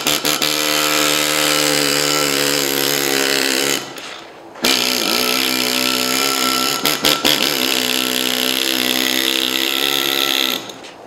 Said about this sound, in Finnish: Sitten tää paineilma.